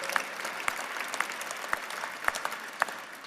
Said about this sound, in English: Applaud them, somebody who knows who they are.